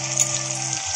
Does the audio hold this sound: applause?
no